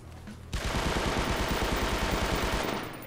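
Sustained automatic assault rifle fire in the video game H-Hour, shot from a distance, a rapid steady burst of loud cracks starting after a brief quiet moment and running nearly three seconds without pause.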